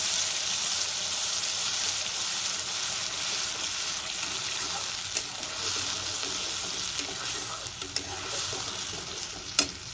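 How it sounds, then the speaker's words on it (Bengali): A masala paste fries in a pan for a masoor dal and egg dish, a loud continuous sizzle with scattered small spatters and light stirring clicks near the end. "এই সময় পেস্ট করে রাখা মশলাটা আমি দিয়ে দেবো। মশলাটা কিন্তু খুব ভালো করে কষাতে হবে।"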